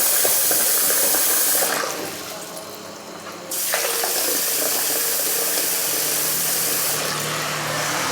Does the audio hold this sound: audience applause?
no